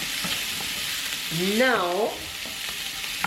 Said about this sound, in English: Saute to get as much of the flavor extracted from the seasoning as possible.